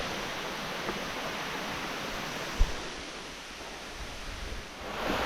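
Gembleng waterfall in Bali, with small pools among the rocks, gives a steady broadband rush of falling water close by, and one brief knock near the middle.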